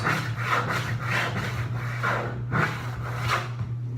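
A fret saw cuts a slot in wood for instrument fretwork, about a quarter inch deep, with rhythmic close rasping strokes roughly every half second and a steady low hum beneath.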